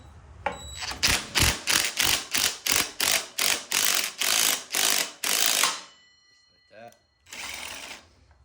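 A ratchet with a 17 mm socket runs a bolt in on a Suzuki LTZ 400 ATV, giving a fast series of about a dozen loud, close clicking bursts, followed by a pause, a brief squeak and one last burst.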